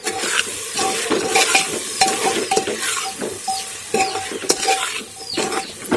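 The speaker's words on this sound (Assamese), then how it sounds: "এতিয়া আমি ধুনীয়াকৈ এইখিনি মিক্স কৰি লওঁ হা।" Chicken biryani with biryani masala stirred in a pot, a spoon scraping and clinking steadily against the metal over a soft continuous sizzle of frying, close and fairly loud.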